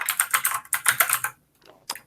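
A loud computer keyboard on an open voice chat, heard as rapid, close clattering keystrokes in quick bursts that stop abruptly near the end, with a few last taps.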